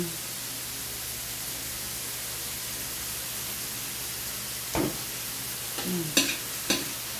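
Shrimp paste and tomatoes are sautéed in a pan for pork binagoongan, giving a steady hiss of sizzling, with a few louder scraping stirs toward the end.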